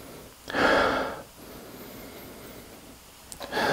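Two sharp, close nasal sniffs of a sprayed fragrance, the first longer and stronger, the second brief at the end, with quiet room air between them.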